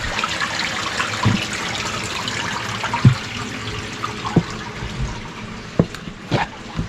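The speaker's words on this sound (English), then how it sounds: "sending all this water this way." Floodwater rushing steadily through a flooded yard, a continuous close wash of flowing water with occasional soft splashes and knocks, no voices.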